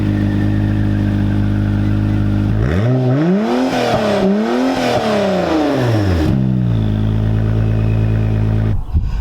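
A 2019 Acura NSX engine starts and settles into a steady, loud idle close by, with a rising then falling rev swell in the middle before dropping back to a smooth idle.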